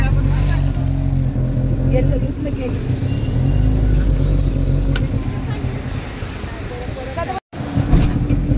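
A crowded auto-rickshaw's small engine drones steadily with low rumble throughout while riding, road noise constant, with a brief cutout near the end and voices under it.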